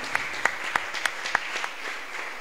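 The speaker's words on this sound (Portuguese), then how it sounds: "Aplauda ao Senhor Jesus." A few scattered claps ring out in a church service, sharp separate hits spaced unevenly over a couple of seconds, fairly close and modest in volume.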